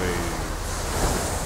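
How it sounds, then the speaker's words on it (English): Ocean waves in the Age of Water game, a steady broadband wash of surf with some wind, continuous and fairly loud with no talking. "Let's sit here and just ride the waves."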